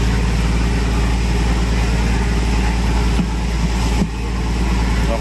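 A boat's engine runs steadily on a large vessel travelling off Catbalogan, Samar, a loud continuous low drone with constant throb and no break, close up and alone.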